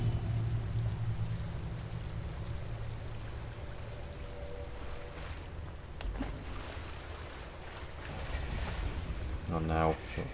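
Water washes and splashes steadily in a glacial crevice in Skyrim, with a low surging rush throughout and a brief burst of bubbling near the end, while someone talks over it.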